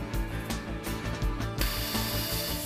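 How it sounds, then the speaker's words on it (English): A crimping machine joins the corners of a tilt-and-turn window frame, giving a run of close, rapid mechanical ratcheting clicks and clunks with no one talking. "The mechanical connection is made by crimping."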